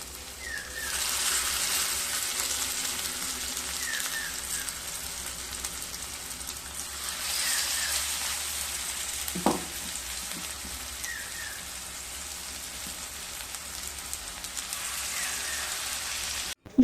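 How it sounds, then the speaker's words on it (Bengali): Potato fries frying in a pan of hot oil, a soft, even bubbling hiss that runs continuously at low level with one brief utensil clink near the middle. "এইভাবে সমস্ত পটেটো ফ্রাইগুলোকে ভেজে নেব।"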